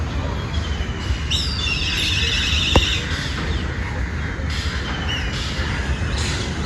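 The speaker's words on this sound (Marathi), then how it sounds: "पक्ष्यांचे केवढे आवाज येत आहेत" Birds chirp in short high bursts over a steady outdoor rush, a few calls standing out now and then.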